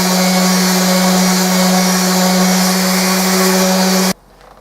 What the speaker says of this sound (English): I just give it overall one final sanding